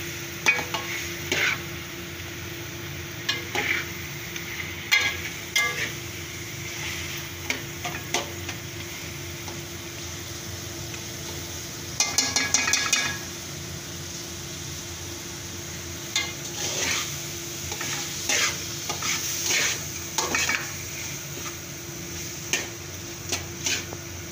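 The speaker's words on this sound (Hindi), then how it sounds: "अच्छी तरह इसको हिलाते रहेंगे।" Food frying in a pan is stirred with a utensil, giving faint scraping and clinking strokes at irregular intervals over a low sizzle. It is quiet and close, with no talking.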